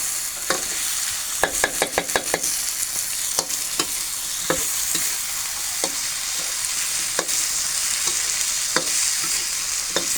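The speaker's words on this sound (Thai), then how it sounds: "เราต้องผัดให้เครื่องมันหอมก่อนเนาะ" Curry paste for a bitter melon curry is stir-fried in a pan. A continuous hiss of sizzling runs under sharp, irregular scrapes and clacks of the stirring utensil, close and prominent, with no voices.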